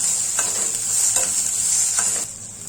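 Ginger and garlic sizzle with onion in a hot pan for a Maharashtrian matar paneer, a constant bright hiss broken by a few quick stirring scrapes, close and loud with no voices.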